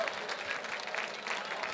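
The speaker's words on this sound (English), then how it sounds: "let's give them a big round of applause to our mountaineering friends" Applause at a mountaineering club's annual gala rises from an audience as a steady, moderately distant patter of many hands, with a voice faintly audible underneath.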